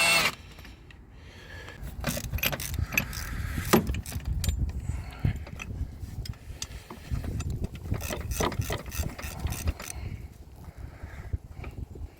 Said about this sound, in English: So just take off the motor mount bolts.